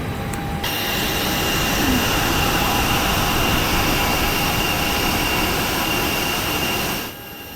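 A real Airbus A321 jet engine, as reproduced in a flight simulator sound add-on, roars with a dense, steady broadband rush and whine, holding loud and even for about six seconds before dropping away.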